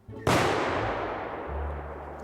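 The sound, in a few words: whistle firecracker exploding in fireworks video game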